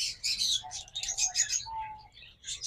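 A pair of albino red-eye Fischer's lovebirds gives quick, high, close chirps in short bursts, with a couple of thin, longer whistled notes between them.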